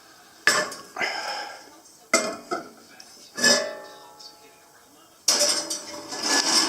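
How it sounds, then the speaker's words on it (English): A metal frying pan is handled and set in place, with several sharp clanks and scraping clatters at close range, separated by short pauses. "Put your frying pan in there."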